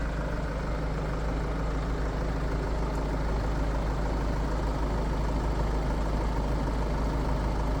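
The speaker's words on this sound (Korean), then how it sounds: "디젤 엔진이니까 외부에서 가까이 가면 디젤 엔진 소리가 나긴 납니다" A BMW 523d's diesel engine idles with a steady, low rumble, a constant clattering drone and no voices.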